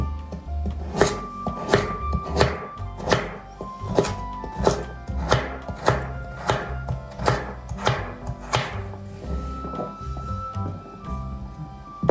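A knife chops carrots into small pieces on a wooden board, a steady run of sharp, close thunks at roughly even pace that thins out toward the end, with no voices.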